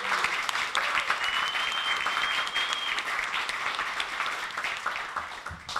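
Audience at a Reconstruction teach-in at Howard University claps in a steady round of applause for the program organizers, many hands at moderate distance, sustained for several seconds.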